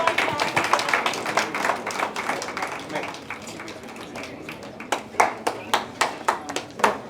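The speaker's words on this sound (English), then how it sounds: "Round of applause, please." Applause from the audience at an Ayurveda Day celebration and award function, starting as busy clapping and thinning into a few distinct, rhythmic claps near the end, with speech mixed in.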